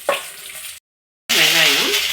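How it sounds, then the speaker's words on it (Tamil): Mustard seeds and split dals fry and pop in hot oil in a pan while a masala dosa filling is cooked. The close, bright sizzle crackles briefly, cuts out for a moment, then returns louder and steady. "கடுகு இப்படி பொரிஞ்ச உடனே கொஞ்சம் கடலைப்பருப்பு சேர்த்துக்கலாம்."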